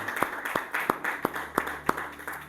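Rhythmic clapping from a church congregation during worship, about seven sharp, evenly spaced claps over a low background murmur in a reverberant hall.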